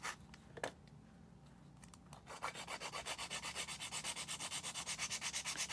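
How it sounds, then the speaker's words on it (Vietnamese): Electric nail file machine shaping acrylic-style hybrid gel nails at a salon training class, starting with a few brief scrapes, then a steady, close, rhythmic buzzing grind pulsing several times a second. "Để em vũa cái shape trước, nên em sẽ xài máy"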